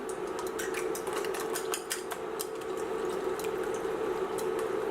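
Three eggs seasoned with salt are beaten in a bowl, giving a quick, steady run of light clicking taps from the utensil against the dish over a constant hum.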